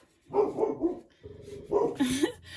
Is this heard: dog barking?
yes